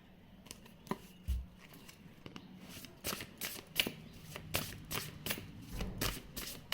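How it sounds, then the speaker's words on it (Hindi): Playing cards are taken from a deck and handled close to the microphone, with soft, quiet riffling and several crisp card snaps and flicks scattered through the moment. "यहाँ से कुछ कार्ड्स लेते हैं इस डेक से।"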